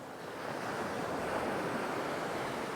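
Sea waves wash steadily at Tanot Beach on Koh Tao in Thailand, a continuous broad rushing surf with some wind, heard alone with no voices.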